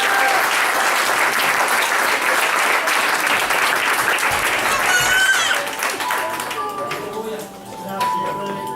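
A church congregation breaks into loud applause during a Spanish-language sermon, a dense clapping wash that fades after several seconds into a quieter room with faint tones and scattered voices.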